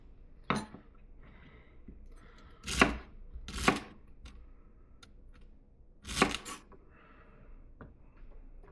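Celery being chopped into pieces on a cutting board for a pot roast: a few sharp, separate knife strikes land irregularly against the board, close and fairly loud, with quiet gaps between them.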